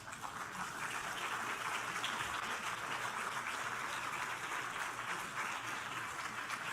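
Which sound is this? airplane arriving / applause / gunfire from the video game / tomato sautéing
applause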